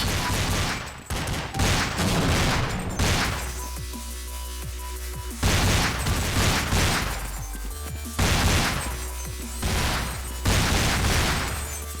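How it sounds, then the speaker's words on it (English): Counter-Strike 1.6 gunfire from a competitive ESEA LAN match, with loud, dense bursts of rapid shots and impacts that repeat in waves of several seconds each. "On the first gun round, Steno would retaliate with his AWP, playing wide open positions"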